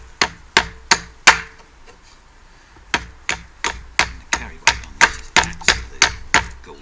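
A very sharp knife chopping hard wood on a chopping block, sharp rhythmic thwacks, four quick blows, a pause, then a longer even series of about a dozen strikes, close and crisp.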